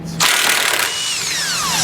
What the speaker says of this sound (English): we need to remove that foam because it covers up some of the access holes to get a power tool in there